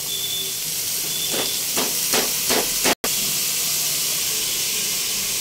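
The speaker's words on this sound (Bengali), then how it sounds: "এটা একটুখানি সেদ্ধ হওয়ার জন্য এটাকে একটুখানি ভাজা ভাজা করতে হবে।" Chopped ash gourd fries in a pan with oil and bay leaves for a vegetarian coconut dish, a loud steady sizzling hiss close by, broken by a few rhythmic stirring scrapes and a brief cut.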